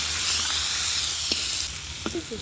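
Whole cumin, chili and chopped onion sizzle steadily in hot oil, a continuous close frying hiss with a few soft stirring clicks.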